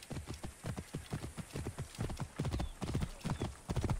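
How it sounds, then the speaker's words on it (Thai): Hoofbeats of a horse galloping toward the rider after being called in Assassin's Creed Origins, a steady close clip-clop rhythm that runs through the whole stretch with no talk over it. "เราก็มาเรียกน้องม้ากันครับโอเคม้ามาแล้ว"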